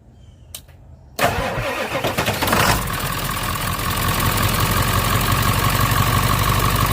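A Ford F350 with a 7.3 diesel engine cranks and fires up after a quiet moment, then settles into a loud, steady, clattering idle close by.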